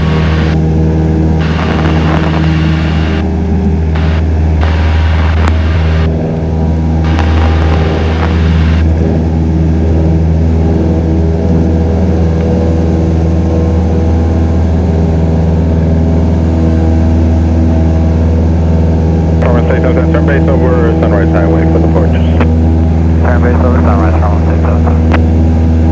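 Piper Cherokee propeller airplane engine on the runway at takeoff, a loud steady drone with strong low harmonics throughout, under intermittent radio and cockpit talk.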